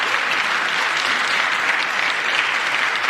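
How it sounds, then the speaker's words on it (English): Sparse, tepid applause from a small congressional audience during a speech, steady scattered clapping filling the whole stretch at moderate loudness with no voices over it. "Now listen to the applause."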